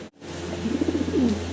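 A male fancy pigeon coos close by, a soft low warbling rising and falling over about a second, with a steady low hum in the background.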